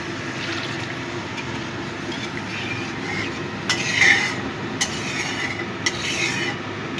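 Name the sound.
hot water poured into frying spices for pabda fish curry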